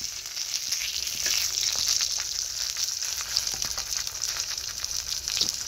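Fish fries in a pan at home, a continuous bright sizzle and spatter close by, with small popping crackles scattered throughout and no voices.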